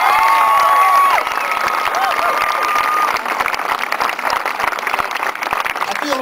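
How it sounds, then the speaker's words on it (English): Loud, dense applause from a political rally audience in Hermantown, Minnesota, for Wayne LaPierre, with some cheering and whistles mixed in as the clapping holds steady for several seconds. "just give Wayne another big round of applause for all his work"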